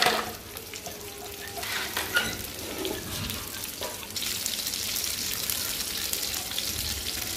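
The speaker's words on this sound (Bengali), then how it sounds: "এরপরে মাছের লেজটা ভেজে নিব" A fish tail fries in oil in a pan with a continuous close sizzle that grows a little louder and denser partway through, alongside light stirring noises.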